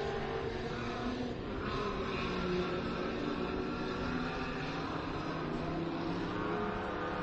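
V8 mini stock off-road race trucks run laps on a short course, a steady distant engine drone holding at a low level throughout, with no talking.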